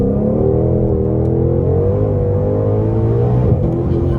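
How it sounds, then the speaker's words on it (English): A 2020 Shelby GT500 in sport mode pulls forward under light throttle, its engine a deep, steady rumble with a tone that climbs gradually and briefly dips as it shifts, heard loud from inside the cabin without speech. "I have it in sport mode now, which is why it's shifting like it is, but we're gonna give it a little throttle here."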